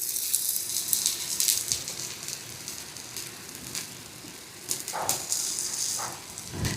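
Poha thalipeeth frying in a little oil on a pan, giving a soft continuous sizzle with scattered crackles and a few brief clinks close by.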